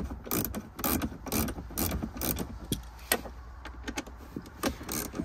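A 7mm socket ratchet works screws out of a 2021-or-newer Ford Bronco speaker mount, giving rapid close clicking and pawl chatter in uneven bursts over a faint background hum.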